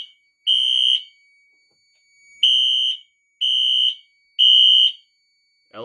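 A Fire-Lite MS-9600UDLS fire alarm system sounds four loud, shrill electronic horn blasts, each about half a second long and separated by short silences, heard close with no talk.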